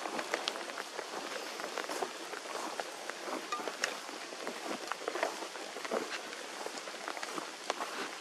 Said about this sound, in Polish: Za mocno pada.